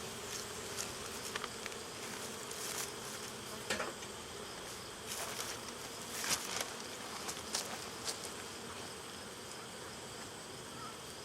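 Honeybees at an open backyard hive in Swanzey, New Hampshire, make a soft, steady buzzing hum with occasional louder passes of single bees near the microphone, fairly quiet overall.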